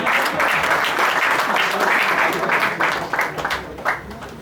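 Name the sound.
audience applauding a speaker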